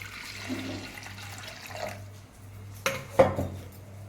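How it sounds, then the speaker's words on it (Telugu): Toor dal is rinsed with water in a metal pot, quiet sloshing and swirling with a couple of sharp clinks of the vessel near the end, no talking. "ముందుగా కందిపప్పును 2 సార్లు నీళ్ళతో కడుక్కున్న తర్వాత దానికి తగినన్ని వాటర్ వేసేయాలి"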